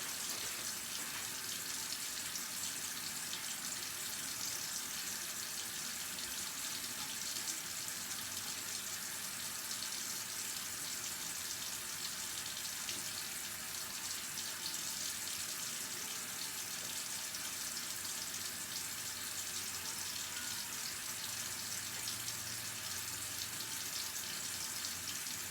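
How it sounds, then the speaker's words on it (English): Tap water runs continuously into a sink to rinse a paint brush, a steady broadband rush that is close and even throughout, with no talking. "Get some brush under some water."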